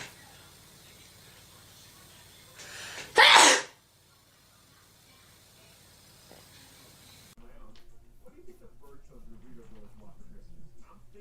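A single loud, sharp sneeze bursts out close by as an allergy sneeze, followed by a quiet pause and then a person talking softly.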